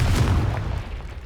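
A Confringo fire spell explosion in Hogwarts Legacy, a loud low boom that quickly decays into a rumbling tail.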